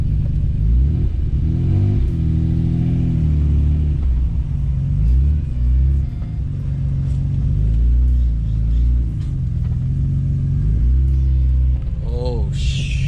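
Nissan Skyline project car being driven, a loud continuous low engine rumble from inside the cabin with gear-change swells and a brief rattle near the end, with speech heard over it.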